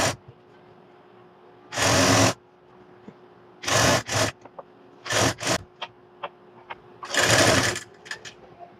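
A sewing machine stitches a piping strip onto a blouse neckline, running in several short, loud bursts separated by brief pauses and small clicks of fabric handling.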